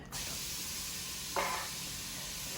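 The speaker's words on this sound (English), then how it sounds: "So onion's going in first, and I'm just going to let that saute for a minute." Chopped onion sautés in a hot pan, a steady close sizzling hiss that carries throughout, with a brief louder burst partway through and no talking over it.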